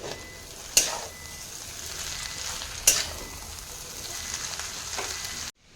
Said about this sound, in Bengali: এবার চাউমিনটাকে আমি ভালোভাবে নেড়ে নিচ্ছি।